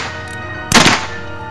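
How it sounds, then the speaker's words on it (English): A single gunshot in a film scene rings out as one sharp, loud crack that dies away quickly, with quiet around it and no talk. "He shot me, Frank."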